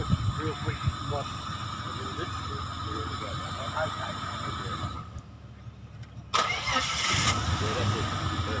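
A car engine cranks and catches, then idles and revs louder near the end, up close under steady conversation between people.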